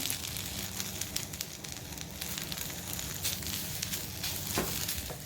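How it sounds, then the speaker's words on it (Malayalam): Curry leaves frying in a hot pan, a steady dense sizzle and crackle with small pops throughout, close and continuous with no talk. "പാൻ ചൂടായി വന്നിട്ടുണ്ട് കേട്ടോ ഇതിലേക്ക് കറിവേപ്പില ഇട്ട് കൊടുക്കേ"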